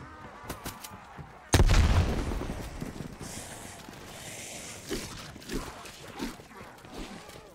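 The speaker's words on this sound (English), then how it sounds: "Throwing grenade." A video game grenade bursts in a single loud, close boom with a sharp attack and a long rumbling decay, as zombies close in; quieter thuds and clicks follow.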